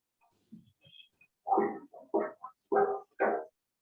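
A dog barks during an online meeting: faint whimpers build into four sharp, fairly close barks in a quick irregular series, with no talking over them.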